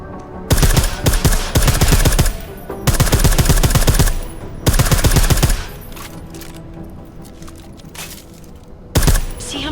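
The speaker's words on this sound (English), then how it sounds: "I like how silencers reduce sound, but the trade-off is less stopping power," Silenced gunfire in the video game Deus Ex Mankind Divided comes as loud bursts of rapid shots in several long strings, with pauses between them and a final short burst.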